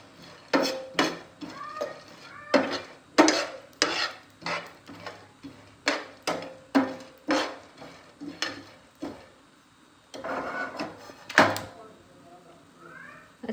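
Dry fruits and nuts including pistachios are roasted and stirred in a pan, producing repeated clattering scrapes of a spoon against metal in an uneven rhythm, close by, with someone talking in between.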